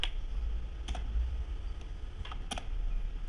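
Keys tapped on a computer keyboard while entering ALT codes in Microsoft Word 2007, a few sparse clicks at an even pace over a steady low background hum, fairly close and moderately quiet.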